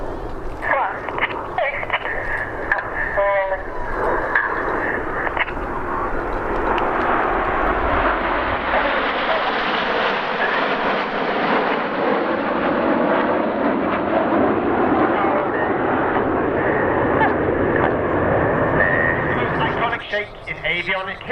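Red Arrows jets fly in wide formation at an airshow, a loud sustained roar that swells and fades over twenty seconds, with a commentator talking over it.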